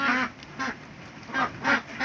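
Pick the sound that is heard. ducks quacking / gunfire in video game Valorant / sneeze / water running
ducks quacking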